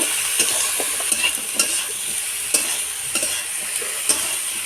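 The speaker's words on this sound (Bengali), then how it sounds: "হলুদও দিয়ে দেবো এর সঙ্গে এবার ভালো করে একটু ভেজে নেব" Fenugreek greens with turmeric frying in a pan while being stirred, a steady close sizzle punctuated by repeated sharp scrapes and clacks of the spatula, with no voices.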